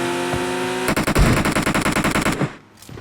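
Automatic gunfire in PUBG Mobile on the snowy night map Vikendi: a single shot, then a rapid, loud burst of rounds ringing for about a second and a half before cutting off.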